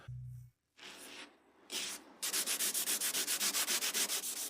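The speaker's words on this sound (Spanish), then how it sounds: "Después de lijar en general para eliminar puntos altos restantes" Hand sanding on a 3D-printed carbon fiber micro catamaran hull, starting with a few separate scrubbing passes, then a fast, even run of rhythmic back-and-forth strokes, close and alone.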